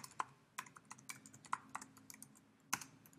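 Someone types on a computer keyboard in a quiet room, producing sparse, irregular clicks and a few sharper key strikes spread over about three seconds, with no talking.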